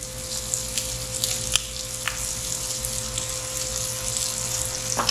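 Bacon and vegetables fry steadily in a pot with a continuous soft sizzle and occasional faint pops, accompanied by a low, constant hum.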